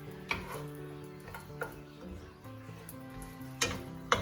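Chinese sausage sizzles softly in its own rendered fat, with no added oil, in a pan, under scattered clinks and scraping taps of a utensil turning the pieces.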